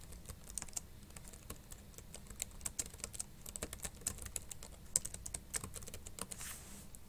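Someone types on a computer keyboard in quick, uneven bursts of light key clicks, fairly faint and close, with no talking.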